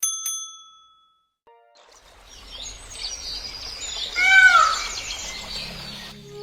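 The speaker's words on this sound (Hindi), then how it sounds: "चंदनपुर गांव की गलियों में चिड़ियों की चहचहाहट गूंज रही थी" Small birds chirp and call through village lanes at dawn, bright scattered tweets rising to a busier cluster midway, with a few bell-like dings at the start and a faint low rumble underneath.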